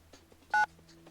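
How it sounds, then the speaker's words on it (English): A cell phone goes off shrilly in a pocket in The Fruit of Grisaia visual novel, a single short electronic tone burst lasting about a tenth of a second over a quiet background hum. "my personal cell phone rings shrilly in my pocket"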